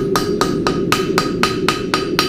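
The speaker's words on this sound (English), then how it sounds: "Just light overlapping blows there." A smith's hammer strikes a heart bar horseshoe in light, overlapping blows, about nine sharp metallic rings in a steady even rhythm, loud and close.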